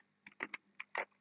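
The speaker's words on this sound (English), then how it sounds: "be careful when typing your code" A short burst of keystrokes as code is typed on a computer keyboard, five or six sharp, uneven clicks close to the microphone in a quiet room, with no talking.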